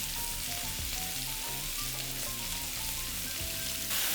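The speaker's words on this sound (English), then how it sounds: "Then we'll add in the onions, give it a mix. Then the garlic." Onions and garlic fry in a wok with a dense, even sizzle that sits close and constant throughout the short stretch.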